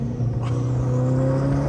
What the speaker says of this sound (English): Listen to the downshifts.